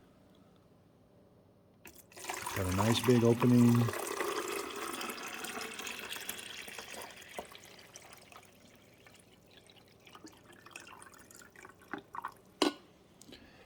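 Fresh water pours into the rear reservoir of a Cuisinart 12-cup coffee maker in a short gurgling stream for about two seconds, followed by faint trickling, drips and small clinks as a person speaks briefly.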